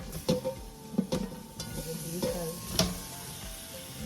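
Quiet sizzling of steak frying in a dry pan without oil, with a few sharp scraping or stirring taps at irregular intervals, close by.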